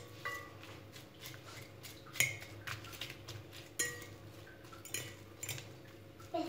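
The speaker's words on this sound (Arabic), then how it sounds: "هكذا وبشوكتين نخلط" Two forks mix food in a dish for chicken and potatoes baked in the oven, giving soft scraping with sparse sharp clinks of metal on the dish every second or so, quiet and close.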